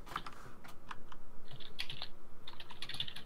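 Fast, steady typing on a computer keyboard during a Minecraft gaming session, a close, quiet run of light key clicks with occasional louder taps.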